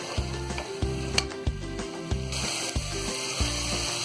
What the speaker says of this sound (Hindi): इन सारी चीजों को अच्छी तरह हम मिक्स कर देंगे और अब इसे हम थोड़ी देर भून लेंगे